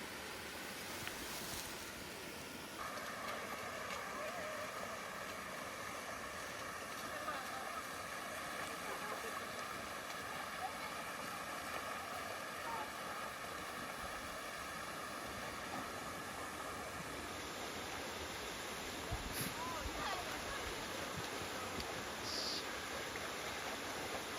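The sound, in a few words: waterfall on the Karakariki Track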